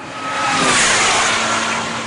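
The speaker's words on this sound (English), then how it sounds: "Darren's out in the minute in the Lotus 211" A stripped-down Lotus 211 sports car, built on a Lotus chassis with no roof, windscreen or doors, roars past at speed on a time trial lap at Anglesey, its engine note loud and sustained throughout without any talk.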